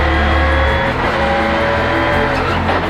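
Rally car number 75 charging through a stage of the Ojibwe Forests Rally 2017: a loud, close engine roar with shifting revs and a faint tire squeal, sustained from start to end with no talk.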